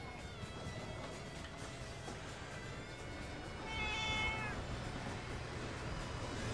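A cat meows several times at a Japanese train station, a clear rising cry in the middle of the clip over a steady hum of station background noise.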